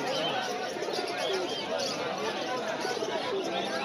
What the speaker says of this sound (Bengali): আরো কিছু পায়রা আছে, বিভিন্ন ম্যাড্রাসি পায়রা আছে এদিকে